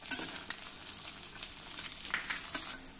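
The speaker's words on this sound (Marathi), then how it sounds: "आता एक मध्यम आकाराचा कांदा घालूया।" A medium onion hits hot oil in a pan while cooking a home-style Marathi vegetable dish with dried coconut and peanuts, a bright continuous sizzle with crackling pops and stirring scrapes, close and alone.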